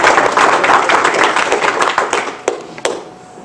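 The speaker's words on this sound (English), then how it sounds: "So I'd like to hear a big applause for Kay French." Loud, close applause for Kay French at a county historical society meeting in Tennessee, a dense burst of many hands that thins out into a few scattered final claps.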